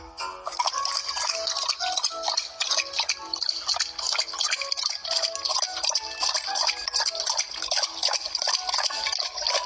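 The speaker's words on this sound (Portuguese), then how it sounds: "Você dá de beber uma garrafa de água." Cartoonish water sounds as a virtual pet drinks a bottle of water in a mobile pet game, with steady bright drips and sloshing over a busy game soundscape and no voices.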